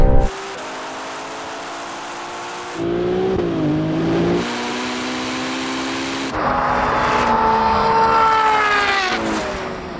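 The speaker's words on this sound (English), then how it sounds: "the 296 got a terrible launch, but now it's going" A Ferrari 296 GTB accelerating hard in a drag race, loud, close engine notes climbing through several gear changes, each shift dropping the pitch before it rises again, with no voices.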